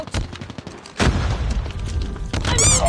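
A frag grenade explosion in the Call of Duty video game bursts out as a loud boom amid ongoing gunfire, followed by continued rumbling battle noise and shots.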